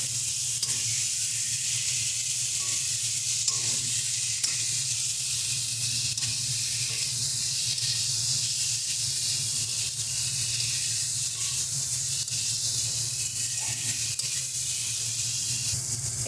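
Raw banana pieces stir-fried with spices in a pan give a loud, continuous sizzle and hiss close up, with faint stirring and no talking.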